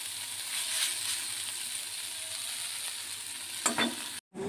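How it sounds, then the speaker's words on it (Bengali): Neem leaves frying in a pan with young jackfruit curry: a steady close sizzle and hiss, with a brief louder stir or scrape just before a short cut at the end. "এবার ভালো করে ভাজা হবে"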